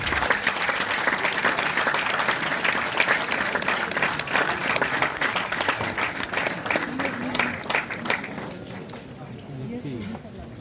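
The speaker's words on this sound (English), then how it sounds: "Please give a big round of applause to our great representative with us here today." A sustained round of applause from a crowd, dense steady clapping that fades toward the end, with voices mixed in.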